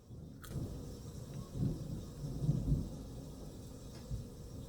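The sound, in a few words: thunder from a thunderstorm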